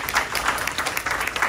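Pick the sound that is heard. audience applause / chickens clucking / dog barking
audience applause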